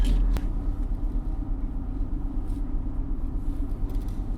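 A Jeep Comanche with a 2.5-liter four-cylinder engine, heard close up running with a steady low rumbling idle right after a brief thump at the start.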